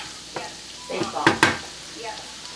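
Shrimp and garlic frying in a pan, with a quiet background sizzle and a few close scraping, clinking stirs of a utensil against the pan, with no talking.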